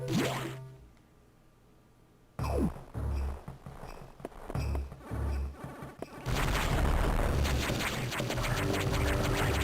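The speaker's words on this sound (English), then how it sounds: "I'm sure that was a good explosion" Bomb blasts in the Metroid Fusion video game: a loud burst of booming game effects after a quiet stretch, followed by a dense, sustained rumble of explosion and action sounds.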